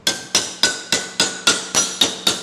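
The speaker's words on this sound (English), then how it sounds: "We're going to hammer them over." Eight sharp metallic hammer blows bending over a thin aluminum bracket for an RV vent cover, struck at a steady even pace, close and loud, with no talking.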